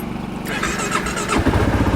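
A Kawasaki KLR 650 motorcycle cranks over with a rapid starter chatter, then the engine catches and fires up into a rough, close idle, all within a couple of seconds.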